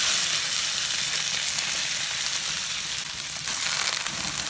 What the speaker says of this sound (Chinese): 把鸡蛋炒好以后放入葱蒜，然后把这个料头给它炒香，炒香以后再下入所有的配菜